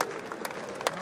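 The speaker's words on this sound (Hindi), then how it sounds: "जोरदार तालियां, जोरदार तालियां बजनी चाहिए" Audience applause at an awards ceremony honouring top branches, regions and zones in Patna, a brief, steady patter of clapping from a crowd with a few louder claps standing out.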